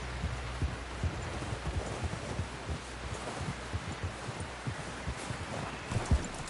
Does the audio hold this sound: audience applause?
no